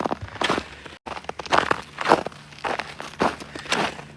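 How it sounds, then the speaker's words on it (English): Footsteps crunching through snow, a steady walking rhythm of gritty crunches at moderate distance, with no talking. "The sound of the crunching snow is too much for you."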